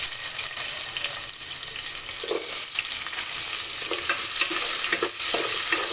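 Paneer and onion pieces fry in hot oil for paneer fried rice, a steady loud sizzle filling the whole stretch, with occasional scrapes and clinks of a spatula stirring the pan.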